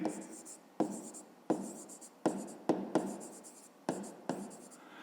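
A pen writes by hand on paper, close and fairly quiet, in a series of short scratchy strokes separated by brief pauses.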